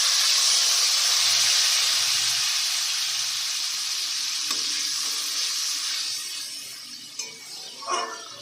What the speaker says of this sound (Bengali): এবার ফোড়নটা হয়ে গেলে কাশ্মীরি লঙ্কা গুঁড়ো আর ধনের গুঁড়ো ভিজিয়ে রেখেছিলাম সেটা দেব